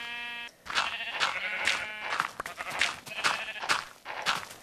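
Sheep in the Minecraft video game bleat repeatedly, several clear bleats in a loose rhythm, loud and near, with game sounds around them.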